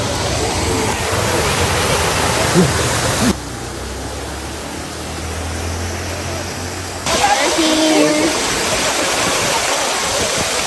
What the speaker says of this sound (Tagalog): So papalapit na kami sa falls guys.